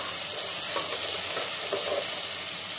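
Spices and onions being stirred and fried in a pan for Kerala-style sambar, with a steady close sizzle and soft scraping strokes of the spoon repeating under it.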